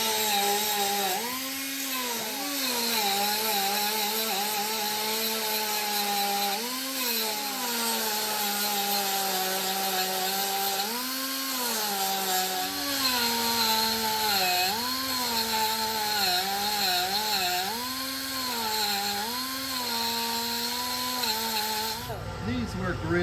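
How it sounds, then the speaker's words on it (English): An angle grinder cuts into a car's spot welds, a loud continuous whine whose pitch sags and recovers as it bites into the metal, with a broad gritty hiss throughout. "I'm gonna grind where those spot welds are."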